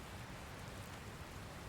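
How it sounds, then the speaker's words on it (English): Steady, dense hiss of rain falling in a video game, a constant even wash of close drops with no break and no talk. "Where did this rain come from?"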